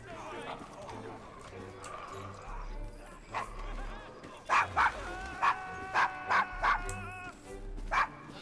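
Several sharp dog barks, close and fairly loud, ring out in a Victorian London street scene of Assassin's Creed Syndicate, spaced in a rough rhythm over faint city ambience and murmuring voices.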